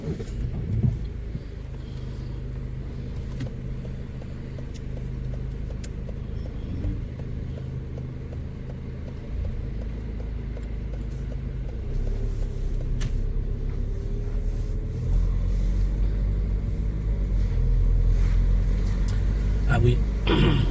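A car drives along during a driving lesson, with a steady low engine rumble and road noise throughout that rises slightly toward the end as it picks up speed.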